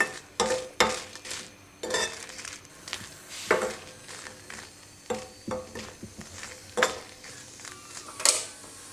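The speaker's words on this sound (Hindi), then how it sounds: "2 खाने के चम्मच इतनी साबुत गोल मिर्च। इसको भी हल्की आंच पर हमने रोस्ट करना है।" Whole round peppercorns roasting in a little cooking oil in a pan over low heat, with repeated scraping and stirring clatters against the metal over a soft sizzle, close and fairly loud, no talking.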